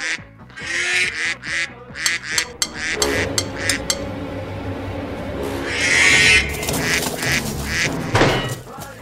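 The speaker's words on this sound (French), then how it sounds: "C'est un canard." Loud, repeated duck quacks close by, in bursts with short pauses, joined by a harsher honking or roaring call partway through.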